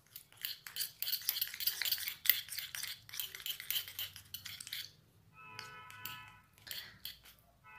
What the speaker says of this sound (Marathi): आता हे मिश्रण मिक्स करून घेऊया